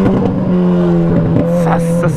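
Close and loud, a Kawasaki Z1000 motorcycle fitted with a straight-pipe exhaust rumbles steadily, its pitch dipping and rising briefly as the throttle shifts, with faint voices in the background.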